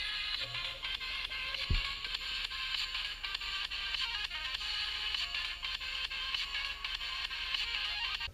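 Music plays from the small built-in speaker of a $7 budget smartwatch, thin and tinny at full volume, steady throughout with a brief low thump near the start.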